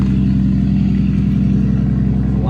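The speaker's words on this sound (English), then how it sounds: "Loud truck." A loud truck engine rumbles close by with a steady low drone, filling the whole stretch at an even level.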